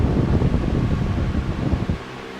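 A wall-mounted oscillating fan runs on a test after installation, giving a loud, steady rushing whoosh of blown air that dips slightly near the end as it swings away.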